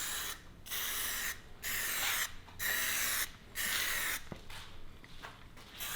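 A spray gun lays gloss clear coat onto car wheels in several bursts of hissing spray, each about half a second to a second long, separated by short quiet pauses, close and alone.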